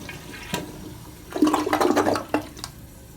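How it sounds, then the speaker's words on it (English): Kohler Wellworth toilet with a front door-style handle and an AquaPiston flush valve flushing in a hotel bathroom: a short handle clunk, then a loud rushing surge of water lasting about a second, ending in a brief gurgle. "The toilet is a Kohler Wellworth. Not the classic, just, you know, a newer one with the door handle. I'll give it a flush for you."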